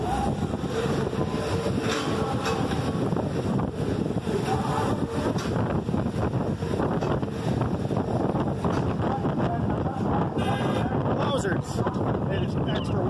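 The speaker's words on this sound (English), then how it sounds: "It's extra windy." Strong wind buffets the microphone outdoors at a street protest in Milwaukee, a constant loud rushing roar that fills the whole stretch.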